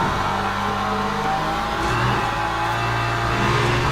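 Porsche race car engine in the Le Mans Ultimate racing game, a loud, close, continuous drone that holds a steady pitch and rises slightly toward the end, with no talk over it.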